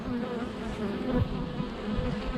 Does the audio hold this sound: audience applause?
no